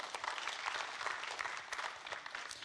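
An audience at a Web'Trophées award ceremony on the Côte d'Opale applauds the third-place winner, dense steady clapping filling the room throughout, fairly distant with a faint murmur of voices underneath.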